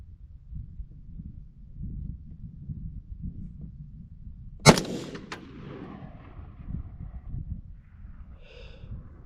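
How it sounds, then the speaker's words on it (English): An AR-15 rifle with an 18-inch Criterion barrel, New Frontier Armory parts and a Wilson Combat bolt carrier group fires a single sharp shot midway, followed by a short echoing tail over otherwise quiet outdoor background. "so how does the 18-inch barrel shoot?"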